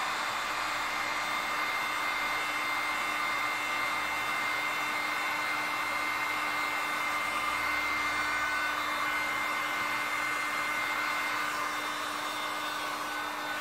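A heat gun blows steadily and loudly for the whole stretch, a constant airy roar with a fixed whine, aimed at a seized window motor wrapped in rubber on a 1965 Thunderbird convertible under restoration.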